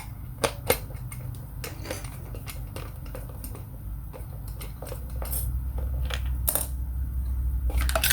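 Small metal clicks and ticks from a screwdriver working bolts loose on the underside of an electric fan's base, scattered light taps over a low steady hum, fairly quiet and close with no talking.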